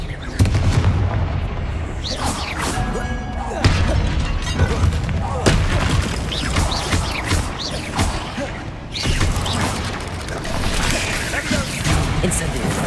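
Confringo spell explosions in Hogwarts Legacy, repeated heavy booms and crackling blasts layered with clattering impacts over thirteen seconds, loud and close, with a voice speaking intermittently.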